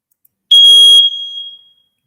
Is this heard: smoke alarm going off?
yes